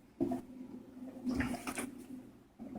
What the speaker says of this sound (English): I'm going to go ahead and put in some spring water